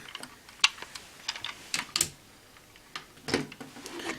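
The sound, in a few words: plastic toy pieces snapping together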